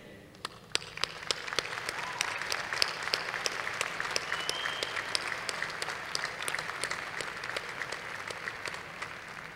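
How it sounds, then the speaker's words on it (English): A large audience at a graduate school commencement ceremony breaks into sustained applause, dense clapping filling the hall at a steady level from start to finish, with no speech over it. "Graduates, will you please join me in a round of applause for your"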